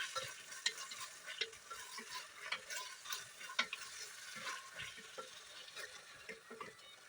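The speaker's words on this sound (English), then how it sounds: "we need to again stir it" A pot of mutton pulao with chopped tomatoes being stirred: soft, faint scraping and clinking of a spoon against the pot in an uneven rhythm over a low, quiet sizzle, no talking.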